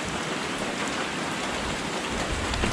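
Heavy rain from Typhoon Fabian in rural Occidental Mindoro, Philippines, a loud, dense and steady downpour roaring close by without a break and with no voices.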